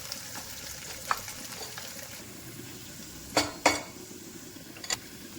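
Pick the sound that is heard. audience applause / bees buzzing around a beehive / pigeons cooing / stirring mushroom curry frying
stirring mushroom curry frying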